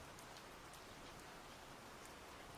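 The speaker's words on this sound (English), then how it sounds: "it's raining outside" Steady rain falling outside, a soft, even patter that continues without pause at a low, distant level, with no voices.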